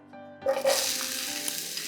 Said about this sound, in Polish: Jeżeli patelnia skwierczy, to znaczy, że to jest moment odpowiedni, że temperatura jest odpowiednia